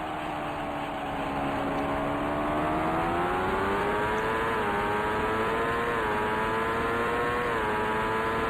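IndyCar race car engines in the Indycar Racing II racing game at Mid Ohio, a loud, continuous high-pitched engine whine rising and falling as the car accelerates and shifts through corners.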